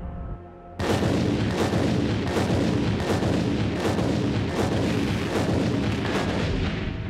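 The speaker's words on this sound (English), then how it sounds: "Columns on the east end of the garage detonate first." Explosive charges detonate in the demolition of a record-setting tower, starting at the columns on the garage's east end, then the upper levels. After a short quiet lead-in, a loud, sustained sequence of booming blasts rolls on in rapid succession.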